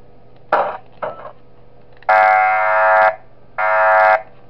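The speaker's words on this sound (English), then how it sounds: "That fire alarm actually isn't that loud in this game." An electronic fire alarm in the video game Five Nights at Wario's: Cabin Fever sounds in loud, steady tonal blasts of about a second each, preceded by a couple of shorter chirps, with no talking.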